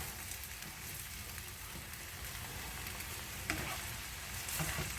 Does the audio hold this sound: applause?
no